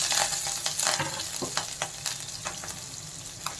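Mustard seeds, cumin, onion and green chilli frying in already hot oil, a steady bright sizzle punctuated by repeated sharp crackles and pops from the spluttering seeds, close and fairly loud without talk.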